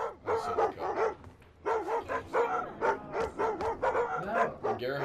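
Several dogs in the Thief video game bark and yip in rapid, overlapping bursts. The sound is close and loud and continues throughout.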